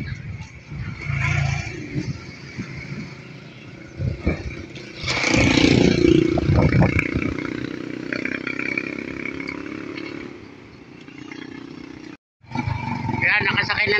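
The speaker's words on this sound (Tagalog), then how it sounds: "Ayan, nakasakay na naman tayo ng motor." Ride on a motorcycle through Timunan, Quezon, the engine rumbling and wind buffeting steadily up close, rising louder midway, with people talking over the noise.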